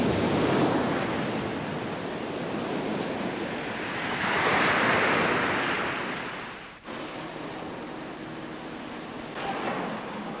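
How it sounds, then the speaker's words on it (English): Pacific Ocean surf rolling onto the Chiba coast of Japan, a steady roar of breaking waves with gusty wind noise that swells midway and briefly dips before continuing, with no voices. "its Pacific waves provide world-class surfing."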